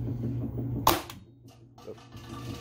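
A Nerf Max Launcher shotgun fires foam balls with one sharp, close pop over a low background hum, followed by faint rattling handling noises.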